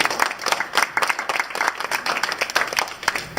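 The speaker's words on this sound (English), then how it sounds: "Let's give Carol a big round of applause." An audience at a magician's lunchtime show claps for a volunteer, a lively burst of distinct handclaps from a modest crowd, fairly close and continuous throughout.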